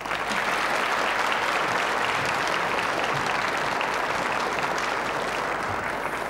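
Steady, even applause from a television studio audience on a 1976 Czech family singing show, continuous throughout with no talking.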